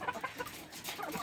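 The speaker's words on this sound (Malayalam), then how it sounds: "ഇതൊക്കെ കരിങ്കോഴിയാണ്" Black-feathered Karinkozhi chickens cluck in a short, close burst of repeated fowl calls, with no voices over them.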